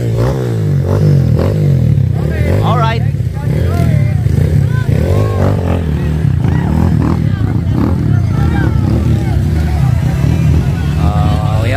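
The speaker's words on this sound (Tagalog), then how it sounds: "Gumagasgas yung makina." A motorcycle engine grinds and scrapes loudly and close, a harsh, continuous roar with rattling texture, while voices chatter over it.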